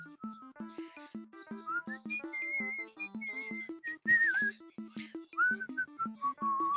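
A person whistles a clear, wavering tune during a Roblox dev stream, the notes gliding and repeating over a steady, rhythmic low backing that pulses throughout.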